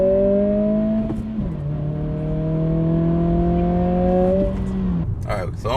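A 2023 Acura Integra accelerates hard in a 0-60 run, the engine note sweeping steadily upward with a gear change near the start and another late, loud and close with continuous strong harmonics.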